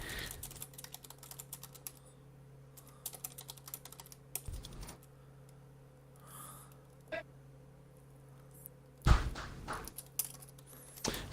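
Fast bursts of keystrokes on a computer keyboard during a gaming tournament broadcast, close and fairly quiet, with pauses and a couple of sharper clacks near the end.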